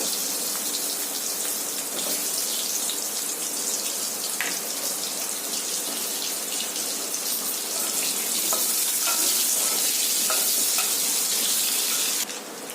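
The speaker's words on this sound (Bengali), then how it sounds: "তেলটা হয়ে গেছে, এবারে আলুগুলো দিয়ে দেবো। আলুগুলো লাল লাল করে ভেজে নেব।" Potatoes frying in hot oil in a home kitchen, a steady dense sizzle and crackle running throughout at close range with no talking.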